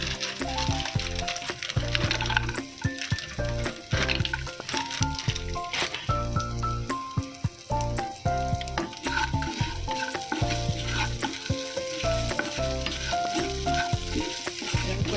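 Puffed rice sizzles and crackles in a hot pan as it is fried, with steady stirring and scraping throughout, continuous and close.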